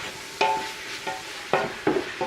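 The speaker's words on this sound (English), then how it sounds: "You want to add your onion in early so that it kind of sears and gives it good flavor and really flavors the beef." Onions searing with ground beef in a pan for chili, with a steady low sizzle broken by several sharp scraping stirs of a utensil against the pan, close and fairly loud.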